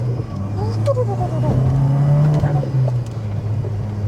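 Engine of a bagged Mk2 Seat Leon Cupra R revving on the road, a low droning engine note rising and swelling in pitch before easing off, heard from inside the car with people talking over it.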